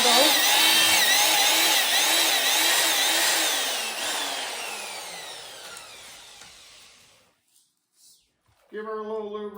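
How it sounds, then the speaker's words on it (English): A power drill whines loudly and steadily for several seconds, pitch shifting as it bites into a 320mm C-pattern track to fit carbide studs, then winds down and stops before a brief burst of noise. "So we're going to drill it out."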